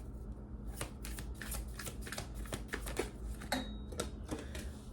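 Tarot cards shuffled steadily and close up, a continuous run of papery flicks and riffles over a low background rumble, no talking.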